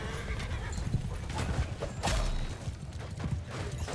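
Horses neigh and gallop with clip-clopping hooves during a cavalry fight in the video game Mount & Blade II Bannerlord, loud and continuous amid battle noise, with one louder burst midway.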